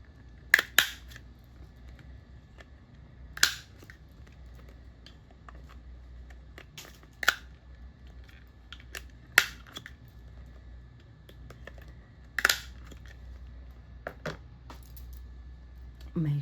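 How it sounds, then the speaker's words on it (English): Scissors snip through the corners of a laminated display label, giving sharp, separate clicks spaced a few seconds apart against a quiet room. "And now let's cut our corners."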